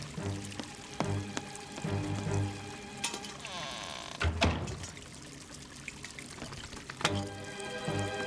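In a Fireman Sam cartoon, water splashes and pours as a bucket bails out a flooded basement, with several sloshing dumps and a louder splash midway over background music.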